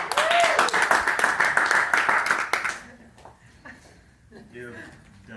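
An audience claps and applauds loudly for about three seconds, then the clapping stops and people talk quietly in the room.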